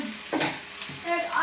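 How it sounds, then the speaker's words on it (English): Burgers sizzle in a pan with a bit too much oil, a steady close crackle with brief stirring or scraping bursts underneath. "we're just putting on the burgers to cook"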